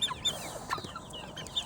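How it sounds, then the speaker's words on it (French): Coucou chickens, including many young roosters, cluck and chatter close by in a farmyard flock, with repeated short clucks and calls overlapping steadily. "Donc voilà nos petits coucous. Il y a beaucoup de coqs dans les derniers."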